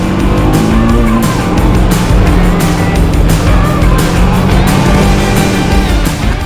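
A TVS Apache RR310 motorcycle being ridden on a track, its engine roaring loud and close with a steady, sustained drone and rising pitch throughout, wind rush over the top.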